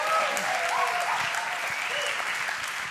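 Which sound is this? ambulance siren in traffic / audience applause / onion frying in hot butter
audience applause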